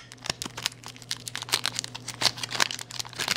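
Wrapper of an Atag Sheksna mini chocolate candy being opened, a close crisp crinkling and rustling of thin packaging with quick tearing snaps, steady and continuous.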